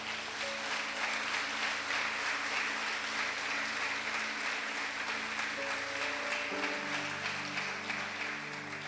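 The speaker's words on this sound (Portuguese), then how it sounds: "Você pode aplaudir o Senhor?" Church congregation applauding steadily throughout, a dense, even wash of clapping with a sustained musical tone underneath and no clear talk.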